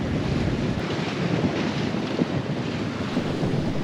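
Strong wind roars across the microphone with waves and water rushing against a sailboat in a squall of about 20 knots on the Atlantic Ocean, a loud, steady, unbroken wash of noise with no voices.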